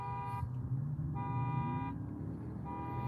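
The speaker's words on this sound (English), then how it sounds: "Oh, it's a car alarm." Car alarm heard from inside a vehicle, sounding as repeated bursts of a harsh, buzzy electronic tone in a regular on-off pattern, fairly faint over a low engine and road rumble.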